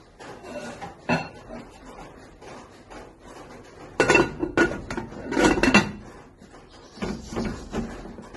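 Metal cookware clatters in a home kitchen while prawn biryani cooks, with a few sharp clinks and two louder bursts as a lid is set onto a pot, then softer handling sounds.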